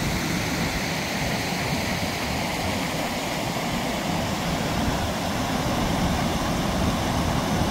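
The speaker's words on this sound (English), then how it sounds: "That's a lot of water coming across there." The Cossatot River rushes across a bridge in a loud, continuous roar of whitewater that stays constant from start to finish, close and dense.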